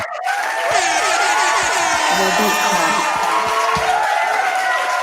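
A live podcast audience cheers and whoops loudly for several seconds, with overlapping voices and possible clapping filling the room throughout.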